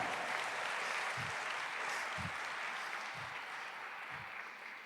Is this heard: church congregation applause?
yes